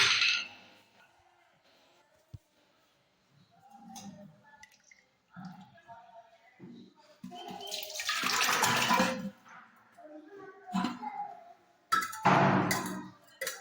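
Curd is poured into a clay pot and churned by hand to make a spiced buttermilk mix, giving wet sloshing, splashing bursts that grow louder toward the end, with faint clinks between them.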